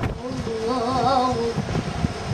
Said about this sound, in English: Still pretty windy.